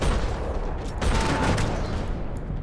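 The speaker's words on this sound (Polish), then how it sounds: "Coś wybuchło." A grenade blast in the Max Payne 3 video game, a loud, dense burst of explosive noise filling the whole clip, with a sharper peak about a second in amid continuous roaring rumble.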